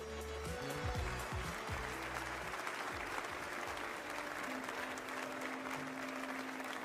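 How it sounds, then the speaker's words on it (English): Audience applause at the Ubisoft Forward showcase event fills the space as a dense, steady clapping roar lasting several seconds, with soft music tones underneath and no talking. "The stormtroopers stare placidly out at the audience as they applaud."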